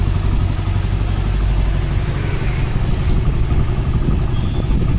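An iSmart 110 motorcycle engine idles close by after a timing chain repair, a steady low chugging hum with a fine, even mechanical patter throughout.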